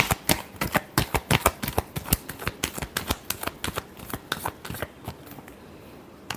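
Tarot cards being shuffled by hand, a rapid series of crisp riffling flicks and snaps, close and distinct, slowing and thinning toward the end with no talk over it.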